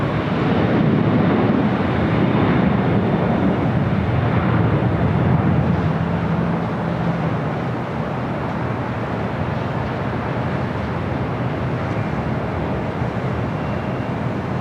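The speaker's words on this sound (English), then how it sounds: "The ANA Dreamliner heading back to Tokyo Narita." An ANA Dreamliner airliner bound for Tokyo Narita at LAX produces a loud, continuous jet engine roar that swells early on and then stays broad and steady at the same level, with no speech.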